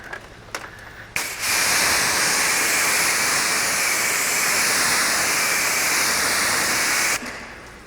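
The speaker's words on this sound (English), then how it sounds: "Slowest sheeter of all of them, but the water comes off nonetheless" Rinse water rushes off wet-glossed car paint in a loud, steady hiss that lasts several seconds after a few short spurts, then cuts off abruptly.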